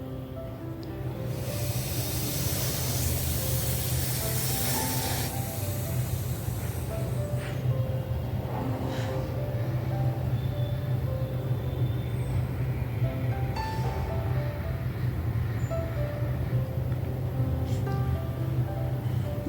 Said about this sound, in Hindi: दोनों दांतों को आपस में मिलाइए, हल्का सा मुंह खोलिए, ब्रीथ इनहेल